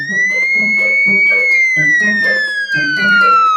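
A police siren wails steadily, its pitch slowly rising then falling, loud and close, with muffled voices and clatter underneath.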